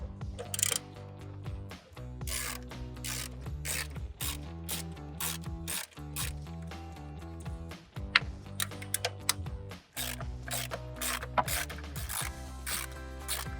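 A ratchet on a size 7 socket loosens ignition coil bolts on a 2005-2008 Mustang GT, giving close, rapid bursts of pawl clicking in repeated strokes with brief pauses, loud and clear with no talk.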